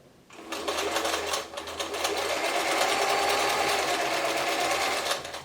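German-made Singer 720 sewing machine stitching zigzag, a close, steady mechanical whirring that runs continuously for about five seconds with no talking.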